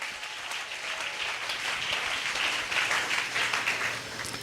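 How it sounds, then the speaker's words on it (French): Sustained applause from a church congregation during a Sunday service, a dense steady wash of many hands clapping that carries on throughout without a break. "Acclamons le Seigneur."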